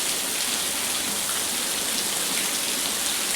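A downpour of heavy rain keeps up a loud, unbroken wash of drops hitting the ground and nearby surfaces, with no talk anywhere.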